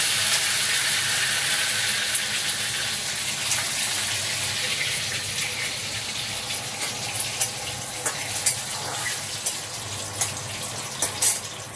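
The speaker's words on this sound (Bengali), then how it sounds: "কারি পাতাগুলো ফোড়ন দিলাম।" Curry leaves, mustard seeds and dried red chillies sizzle as they are tempered in hot oil for bread biryani. The hiss is steady and loud throughout, with a few sharper crackles and pops near the end.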